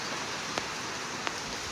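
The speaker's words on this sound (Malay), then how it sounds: "Hujan dekat sini mesti hujan tuan-tuan" Rain falling in Sibu, a steady, even hiss of drops on a surface with a couple of faint taps, with no voices.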